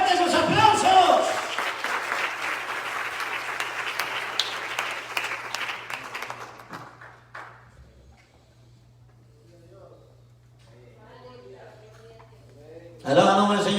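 Church congregation claps and applauds loudly at a service, a dense burst of clapping that fades out over several seconds, followed by quieter voices and a renewed surge at the end.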